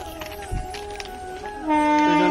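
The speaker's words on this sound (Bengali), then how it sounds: "ট্রেন আসছে" A train rumbles in the distance, then a sustained horn rises loud and near toward the end.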